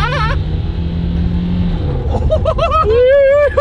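A diesel car engine running away on its own, a loud uncontrolled roar that climbs into high rising revs, with voices talking over it.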